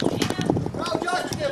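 Racehorses gallop along the track at the Zagreb hippodrome during a trial stakes race, rapid rhythmic hoofbeats thudding close by beneath an excited race commentator's voice.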